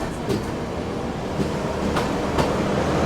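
A train with a banker locomotive attached runs past a crossing on a ghat section, heard as a steady loud rumble and wheel roar with faint periodic clanks, close by.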